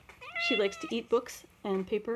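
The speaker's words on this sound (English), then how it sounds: "that's my cat" A house cat meows several times indoors, the calls fairly close and overlapping with someone speaking nearby.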